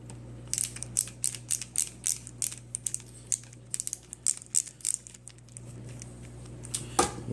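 A Phillips screwdriver backs screws out of a shotgun recoil pad on an H&R 1871 Pardner Pump, making a close series of quick, sharp ratcheting clicks in uneven bursts over a faint steady hum.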